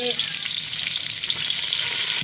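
Soaked ingredient frying in a pan for brinjal curry, giving a steady, close, continuous sizzle with faint stirring scrapes throughout and no talking.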